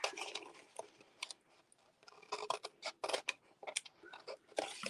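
Scissors snip paper for a treat box in quick, close, irregular bursts of crisp cuts with short pauses between them, no voices.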